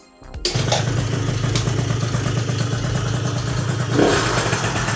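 A two-stroke scooter engine with a new spark plug and the oil pump deleted catches after a thump and settles into a loud, steady, buzzing idle, with a slight rise in revs near the end.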